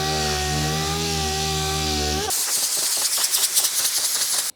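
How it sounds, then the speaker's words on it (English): An orbital DA sander with 500 grit works UV primer on a black Chevy car hood, a dense buzzing whir with rattly bursts that follows a steady high motor whine, close and loud with no voices. "we're just going to sand out the rest of this texture from the UV primer with 500 grit on an orbital"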